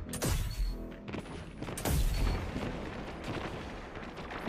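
A pulse rifle in Destiny 2 firing seeking projectiles, with sharp bursts and booming impacts at about 0.3 and 2 seconds followed by rumbling, moderately loud with no talk.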